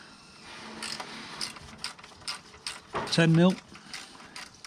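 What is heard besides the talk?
ratchet tightening exhaust slip-on clamp on Triumph Tiger 850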